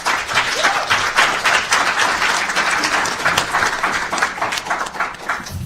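A large audience at a policy summit lunch plenary applauds to welcome a congressman, dense, steady clapping from many hands filling the room at close range and sustained throughout.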